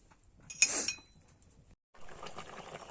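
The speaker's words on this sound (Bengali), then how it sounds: "এবার কিছুক্ষণ জন্য ঢাকা দিয়ে দেব" A lid goes down on a cooking pot of bata fish curry with pumpkin, potato and Malabar spinach, giving a near, bright metallic clink and clatter. A softer, scattered rattle follows a moment later.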